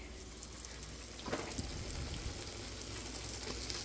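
Food fries in a pan with a steady, bubbling sizzle, quiet and continuous, with a brief louder crackle partway through.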